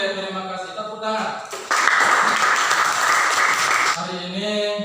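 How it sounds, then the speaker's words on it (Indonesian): Students in an Indonesian classroom clap together in a dense burst lasting about two seconds, with a teacher's voice talking just before and after. "Tepuk tangan."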